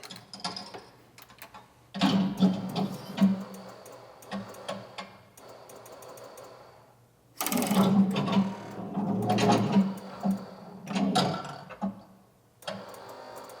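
DIY shaker motor in a virtual pinball cabinet rattling during a bulldozer mission: intermittent bursts of buzzing, ticking mechanical vibration with a low hum, swelling and fading over several seconds with quieter gaps between.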